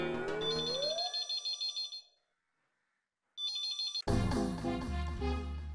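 A phone ringtone plays in a rising, pulsing electronic pattern, breaks off into silence, starts again briefly, then gives way to a loud burst of music.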